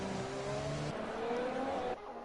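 Williams F1 car in a racing video game accelerating hard through the Mexico race, a high engine whine climbing in pitch through gear shifts, loud and close with no talk.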